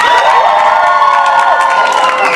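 A school crowd of students cheers, whoops and shouts together in a loud, dense roar, sustained from start to finish with no pause.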